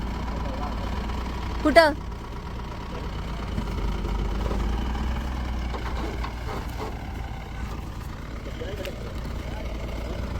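A tractor engine idles in a steady low rumble at a rural bullock-cart race ground, continuous throughout, with voices talking nearby and a brief louder shout.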